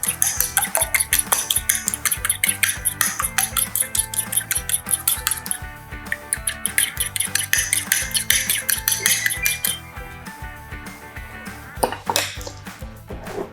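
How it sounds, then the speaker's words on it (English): A fork beats an egg quickly for egg wash in a bowl, producing a fast, steady run of bright metallic clicks and taps against the dish that slows and turns irregular toward the end. "Now I whisk up very quick my egg."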